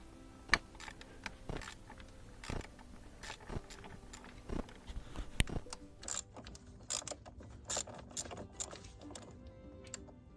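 Ratchet clicking while loosening 8 mm fuel rail screws on a GM truck (Yukon, Tahoe, Silverado) during a fuel injector repair, with sharp, irregular clicks and short bursts of ratcheting up close, no talking.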